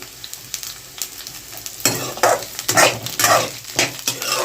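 Slit green chillies fry in a pan as a spoon stirs them, with scraping strokes and bursts of sizzling after a quieter start, loud and close.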